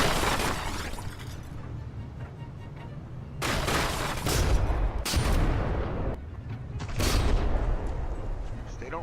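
Secondary guns fire at a frigate in a From The Depths naval battle, giving repeated booming volleys and crackling bursts over a constant rumbling din of combat.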